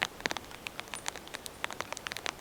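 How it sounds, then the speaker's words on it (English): Rain patters on the fabric of an Exped Venus tent at a wild camp in heavy weather, with scattered close, crisp drops tapping irregularly over a quiet background and no voices. "It's been raining non-stop since we arrived."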